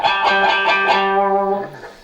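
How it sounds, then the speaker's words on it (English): A run of bright electric guitar notes picked with the serrated edge of a coin, with a scratchy, sharp pick attack, ringing briefly before fading out. "you can get a very sharp effect by using the serrations"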